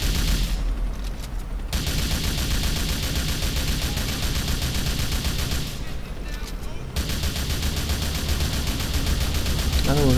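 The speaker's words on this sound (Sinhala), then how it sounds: "මම යාට වෙඩි තියනවා" Gunfire in the video game GTA Vice City, dense rapid bursts of shots and booms filling the clip, broken by two short pauses, with a voice talking over the game sound.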